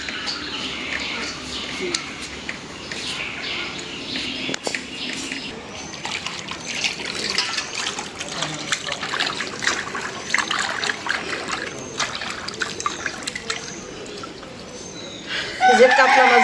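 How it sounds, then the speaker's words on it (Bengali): Large katla fish splash and thrash in water, an irregular wet sloshing that grows louder toward the end, with a voice talking over it. "কাতলা মাছের আওয়াজ"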